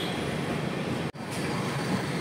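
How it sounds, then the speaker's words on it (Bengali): Brahmaputra Mail train 15658 rolling slowly toward a bridge, a continuous low rumble and rushing noise heard from onboard, broken by one brief momentary dropout midway. "এরপর আমাদের ট্রেন ধীরে ধীরে সরাইঘাট ব্রিজের দিকে অগ্রসর হতে থাকলো।"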